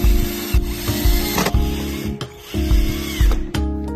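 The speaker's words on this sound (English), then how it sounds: "Tighten the 4 screws." A power driver tightening four screws while a smart lock is installed on a door, giving repeated short whirring bursts with brief pauses between them, loud and close.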